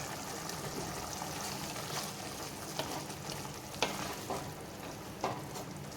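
Cleaned dried anchovies (nethili karuvadu) dropped into a simmering dry fish gravy, giving a soft, even sizzle and bubbling with a few sharp clicks and splashes from stirring.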